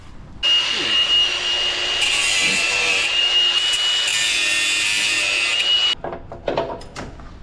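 A power tool cuts through the metal diff lock lever of a John Deere Gator utility vehicle, a loud sustained high whine grinding steadily for several seconds, then stopping with some scraping and clattering afterward.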